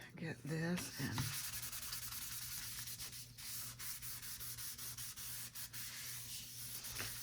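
A paper tag is rubbed down by hand to make it stick, giving repeated soft, scratchy rubbing strokes at a close, quiet level over a faint background hum.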